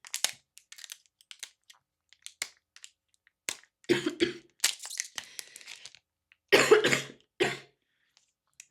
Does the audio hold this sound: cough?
yes